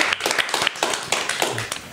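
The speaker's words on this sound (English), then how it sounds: "Ladies and gentlemen, Lola Brooke is here. Clap it up." Studio clapping for guest Lola Brooke on The Joe Budden Podcast, a few people nearby clapping in an uneven rhythm of sharp, close claps.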